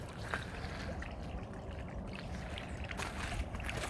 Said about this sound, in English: Apparently water from that swamp is draining out of here.